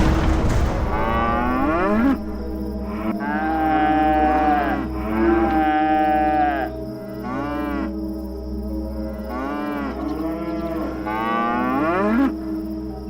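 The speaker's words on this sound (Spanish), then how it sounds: "fue seguido al punto por escalofriantes mugidos y pataleos de las vacas" Cattle in a stable give several long, loud, wavering moos, one after another, over a low rumbling drone, staged as a sound effect in a horror radio drama.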